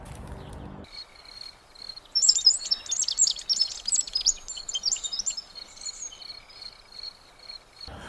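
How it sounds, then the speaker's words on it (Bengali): An American robin calls at night, a faint series of high, thin chirps and trills repeating over a quiet background, with brief low noise only at the very start and end. "এবং পাখির ডাকটা যদি আপনি খেয়াল করতে চান"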